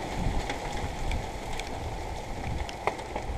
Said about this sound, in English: The rain's coming and going.